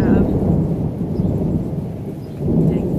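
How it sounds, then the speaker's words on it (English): Thunder rolls in a deep, loud rumble that swells, eases, then surges again near the end, with rain hissing beneath it and no talk. "Dang thunder."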